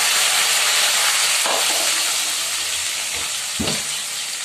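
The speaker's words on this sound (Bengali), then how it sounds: "তেলটা গরম হয়ে উঠলে গোটা জিরে দিয়ে দিব" Whole cumin seeds and a spice paste with green chilli sizzle in hot oil, a steady broad frying hiss throughout with a few louder bursts as the paste goes in, close and fairly loud with no talk.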